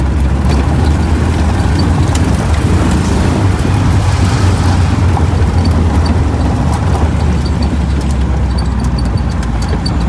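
A VW Thing rolls over loose gravel, a steady close crunching rumble with the engine underneath, continuous and loud throughout without pauses.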